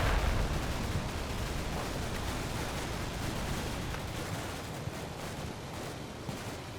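Gunfire in Combat Mission: Cold War, a steady rumble of distant shots and artillery-like booms blending into a dense, continuous battle din, fairly faint throughout.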